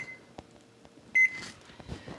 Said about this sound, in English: I'm going to put my timer on for 7 minutes.